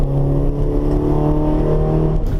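A VW T5 van fitted with Bilstein suspension driven hard around the Nürburgring, its engine a steady, loud droning roar with a sustained low tone and no clear pass-by, heard close from inside or alongside.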